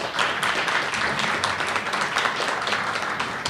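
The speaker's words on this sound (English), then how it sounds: "So let's give Eric a big round of applause." A dense, steady round of applause from an audience at a Brooklyn economic exchange event greets Borough President Eric Adams, loud and continuous throughout.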